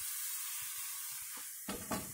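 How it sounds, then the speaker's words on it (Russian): Meat, potatoes and onion fry in a cauldron over a campfire, giving a steady, fairly quiet sizzle with a couple of louder scraping stirs near the end. "Обжариваем вместе с лучком наше мясо"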